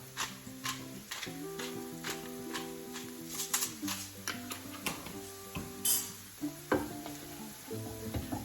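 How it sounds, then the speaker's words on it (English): Onions cooking in a pan with salt and cracked pepper are stirred with a spoon, giving soft, irregular scraping knocks over a quiet, continuous sizzle. "give that a nice stir"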